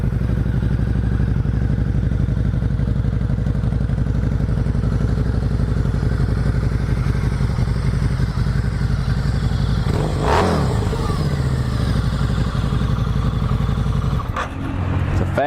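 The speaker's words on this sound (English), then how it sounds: "Fast revving, good running, great handling motorcycle right there." A 2009 Harley-Davidson V-Rod motorcycle engine runs steadily up close, loud and continuous, with a sharp rev burst about two-thirds through and a brief thump near the end.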